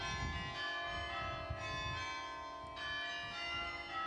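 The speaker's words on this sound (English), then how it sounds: "It's amazing how when the bells start, people will stop and listen." Carillon bells ring out at Grace Cathedral, sustained overlapping bell tones with a steady shimmering hum, heard at moderate distance with faint low rumble beneath and no talking.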